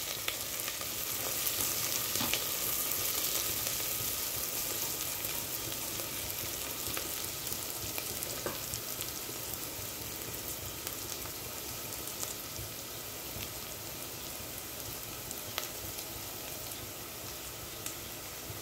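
Onions sizzling in oil in a pan on the stove while cooking a ridge gourd sabzi, a steady fine crackle with occasional sharper pops, fairly quiet and close, with no talking.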